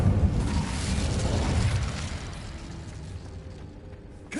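A fire spell cast in the wizarding game Hogwarts Legacy, a loud whooshing burst of flame that rushes and then slowly fades over a few seconds.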